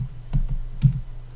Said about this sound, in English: you can just do your keyboard shortcuts and just delete that